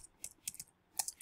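Quick light clicks of keys on a computer keyboard, a short burst of typing ending with a sharper press, close and quiet, with no talking.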